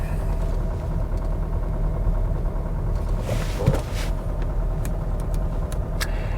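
A cheap used Lexus IS creeping along at about six miles an hour, its engine droning low and steady with a rough mechanical texture and a brief clatter near the middle, with no talk over it.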